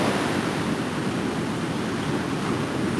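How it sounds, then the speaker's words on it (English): Ocean surf breaking on a beach in steady wind, a continuous loud roar of waves with wind noise buffeting the microphone throughout. "you see where the waves are coming in"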